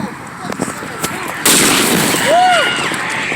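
A single sharp firecracker bang bursts out close and loud on the Fourth of July, followed by a trailing crackle and a whistling sweep, with people talking and shouting around it.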